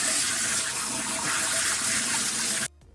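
Tap water runs steadily and loudly into a salad spinner to rinse cranberries, then cuts off abruptly near the end, leaving a quiet room.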